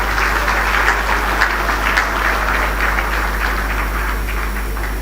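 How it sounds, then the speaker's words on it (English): Applause from a gathered audience at a formal event in Ghana, greeting a birthday wish for President John Dramani Mahama: a steady wash of clapping that holds evenly for the whole stretch, with a constant low hum beneath it. "Help me wish him a happy birthday with a big round of applause."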